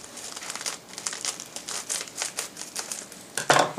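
Plastic packaging of a Zagg invisible shield screen protector crinkles and crackles as it is opened with scissors, a close, continuous rustle with a louder burst of crumpling near the end.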